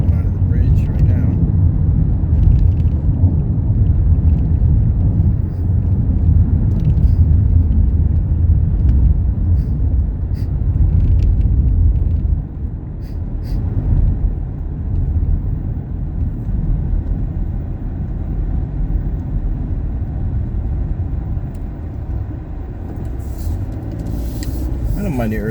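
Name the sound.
cars zooming by on a freeway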